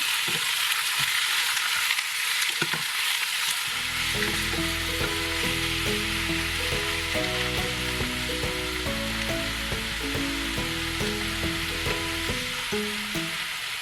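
Meat frying in olive oil for Bicol Express, a Filipino dish, sizzles steadily and close up while a spoon stirs through it, with a bright continuous crackle running the whole time.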